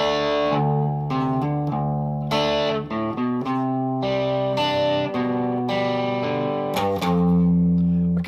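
Distorted electric guitar plays bars three and four of a riff, a steady run of sustained, heavily driven notes changing pitch every beat or so, close and loud with no talking.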